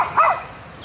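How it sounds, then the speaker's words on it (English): A small yappy female dog gives one short sharp bark close by, alone and fairly loud. "I swear she just barks to hear herself bark."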